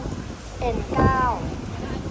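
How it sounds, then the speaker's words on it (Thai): Strong wind buffeting a passenger boat on a river, a short rushing gust under a voice, with a brief tonal whine rising in the middle. "ลมแรงจริง ๆ ครับ"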